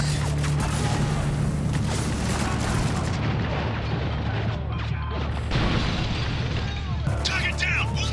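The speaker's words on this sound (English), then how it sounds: "Stop throwing grenades!" Grenade explosions in the military shooter Spec Ops: The Line boom heavily amid constant gunfire and battle noise, loud and close throughout, with voices shouting over the chaos.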